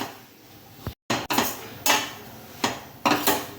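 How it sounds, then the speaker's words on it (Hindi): A metal spoon scrapes and knocks against a pan as barfi mixture is stirred and roasted, giving several close, loud scraping strokes with brief clanks and one short pause. "इस तरह से इसको हम चलाते रहेंगे और इसको हम लाल होने तक भूनेंगे।"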